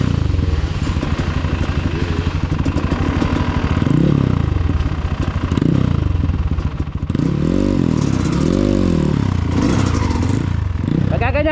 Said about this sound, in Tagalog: Ay Vic, pagalitin mo yung makina.